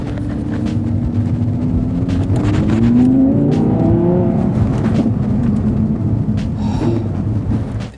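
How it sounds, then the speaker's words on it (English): An Audi R8 supercar accelerates hard through a turn, its engine note climbing loud and close in a steady, sustained roar with no voices. "the latest generation of R8s offer lightning-fast speed for an affordable price"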